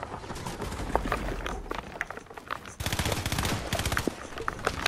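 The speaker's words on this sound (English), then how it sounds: "Nah, there's either someone shooting at me, or he's shooting at someone else." Rapid automatic gunfire from the video game Fortnite, rattling in fast bursts that grow denser and louder toward the end of the clip.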